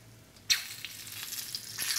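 Garlic and tomatoes sizzle and fry in a pan, a steady close hiss that jumps louder at half a second as the tomatoes hit the heat, with faint crackles and spits continuing throughout.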